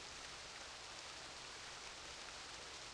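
Rain falling in the realMyst Masterpiece Edition video game, a steady, soft hiss of downpour that stays even and quiet throughout, with no voices.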